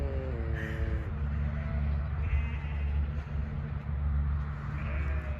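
Ewes bleating while being moved out of their pen ahead of lambing, a few drawn-out calls over a low steady hum of an idling engine nearby.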